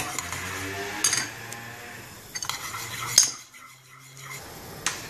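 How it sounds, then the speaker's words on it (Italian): Spaghetti carbonara is stirred in a pan with a utensil, giving close, scattered metallic clinks and scrapes against the pan with quiet gaps between them. "Continuiamo a mescolare."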